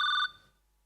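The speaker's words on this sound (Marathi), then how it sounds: "फोन आला. जरा फोन घे इथला." A telephone gives one short, clear electronic ring burst that cuts off after a moment and leaves silence, heard on a Marathi comedy sketch stage.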